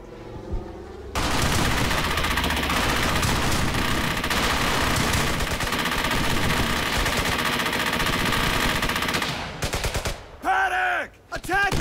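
Sustained MG-42 machine gun fire roars almost nonstop in the World War II shooter game Brothers in Arms: Hell's Highway. The rapid bursts are loud and dense, and near the end they break into shorter volleys between other battle sounds.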